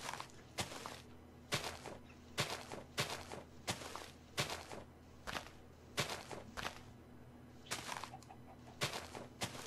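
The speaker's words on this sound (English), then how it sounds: "I hear a chicken clucking." A chicken in a video game clucks in short, sharp bursts that repeat at a fairly steady pace. The bursts are quiet and heard alone, with no talking.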